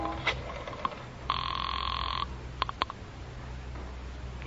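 A telephone rings on a street in Cairo in an old-time radio drama: one short scattered ping, then a single sustained electric bell ring, followed by a few brief clicks and pings over a faint background hum.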